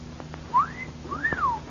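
A man whistles two rising-and-falling wolf-whistle swoops in an old-time radio drama, clear and close, the second longer, over faint background hum.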